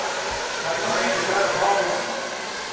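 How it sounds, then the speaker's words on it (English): An air conditioner running in a small soundproofed room, a steady broadband whoosh of airflow that holds evenly throughout at moderate level, with no talk over it. "we need to turn on the AC."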